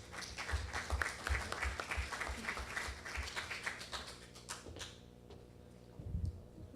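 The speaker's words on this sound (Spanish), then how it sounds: "Un fuerte aplauso," Audience at a Peruvian environment ministry event on plastic bags and utensils gives a strong round of applause, dense clapping that thins into a few scattered claps and dies out near the end, followed by a low voice.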